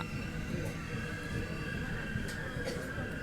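Rumbling run of the 16575 Yeshwantpur–Mangaluru diesel passenger train, a steady low roar with faint rail clatter and occasional brief high squeaks, continuous throughout.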